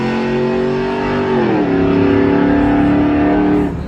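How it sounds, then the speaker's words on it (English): An old truck accelerates hard in a drag race, its engine droning loud and close in a steady rising roar that dips briefly at a gear shift and then climbs again. "Oh, he got that old truck running."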